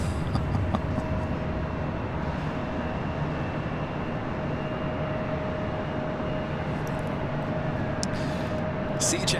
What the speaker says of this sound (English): up next for arrival is the special Sichuan Airlines in the Panda route livery, flight 3837. It's an A350-900.